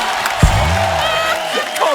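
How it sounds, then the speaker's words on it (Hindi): A studio audience applauds and cheers for Nora Fatehi on a comedy talk show, a loud, dense wash of clapping with whoops and voices mixed in. "जोरदार तालियां नोरा के लिए।"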